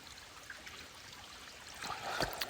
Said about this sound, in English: It's not a big stream, but